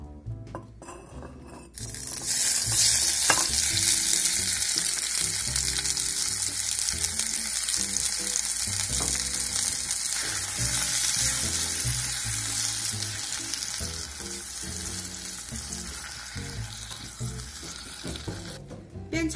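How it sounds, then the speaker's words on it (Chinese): Tomatoes stir-fried in a little oil over high heat give a loud, steady sizzle with occasional clinks of a utensil against the pan, heard close up with no talking. "放少点油，大火番茄先煸炒，"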